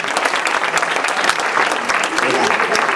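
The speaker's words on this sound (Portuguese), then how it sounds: "Aplauda Jesus que na vida estava aqui na sexta." A church congregation at a women's congress applauds, a thick, continuous wash of many hands clapping at once with voices faintly mixed in, loud and sustained throughout.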